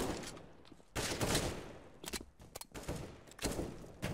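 Rapid bursts of gunfire in the game Counter-Strike: Global Offensive, loud, close, and repeated in several clustered volleys with short gaps between them, and no talking over them.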